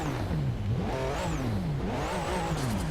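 A car engine revs up and down repeatedly in the video game Forza Horizon 3, its pitch rising and falling in smooth sweeps, close and steady throughout.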